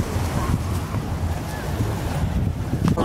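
Ocean waves at a beach: a constant loud rush of surf mixed with wind buffeting the microphone, close and continuous, with no clear individual breaks.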